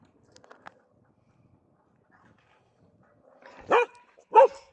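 After near silence with a few faint clicks, a dog gives two sharp, close barks in quick succession.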